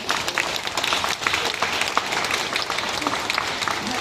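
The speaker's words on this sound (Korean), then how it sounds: "박수 한번 해주세요" Sustained, dense applause from a lecture audience honoring a former table tennis player and sports council president, loud and continuous throughout.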